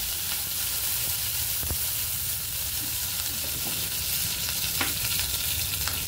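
Cumin, mustard seeds, turmeric and curry leaves sizzle in hot oil for a dal curry, a steady close frying hiss broken by small crackles and pops.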